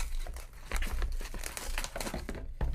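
Thin cellophane wrapping on a new iPhone 4 box crinkles and crackles up close in a steady, busy rustle, with a few sharper tearing bursts toward the end.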